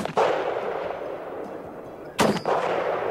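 Rifle shots on a 200 m shooting range: two loud, sharp reports with long echoing tails, about two seconds apart.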